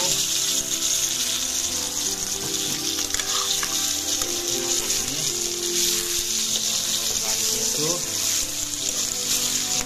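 Duck meat fries in a pan with onion and chilli, giving a loud, steady, dense sizzle that runs without a break and has occasional stirring clatter.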